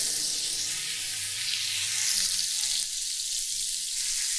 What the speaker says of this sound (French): On va plonger les filets dans le beurre et l'huile.